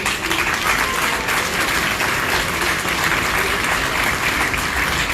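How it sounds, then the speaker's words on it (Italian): Applause for children at a public event for a health train's arrival at Venezia Santa Lucia station, loud sustained crowd clapping throughout. "Facciamo un applauso anche a questi bambini."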